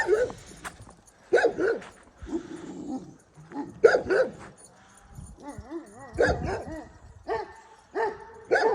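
A young Kangal puppy yips and barks in short bursts with some whimpering between, close by, while people talk quietly in the background.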